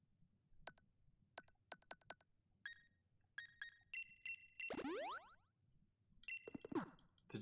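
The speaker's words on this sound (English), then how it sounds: "What? I'm getting notifications?" Chimes, pops and chirps from notification alerts while playing Pokemon Sword and Shield, arriving as short bursts in quick clusters and then a louder sweeping tone, clear and close with no talking.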